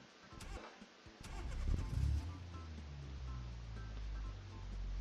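A custom-built car in BeamNG starts up: a brief cranking whir and rattle, then the engine catches into a low, rough idle that holds steady and close to the end.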